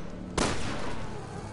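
A single loud gunshot from the video game Resident Evil Revelations 2, a sharp broadband crack followed by a long decaying reverberant tail, with no talk over it.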